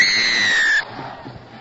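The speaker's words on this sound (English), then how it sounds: "Referee Ron Fernando, his long whistle, and a kick deep into Trinity territory" A referee's long, loud whistle blast sounds for close to a second at a schools rugby match in Kandy, then cuts off, leaving the faint murmur of the crowd.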